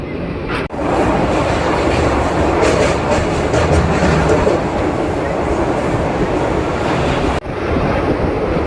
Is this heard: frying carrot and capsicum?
no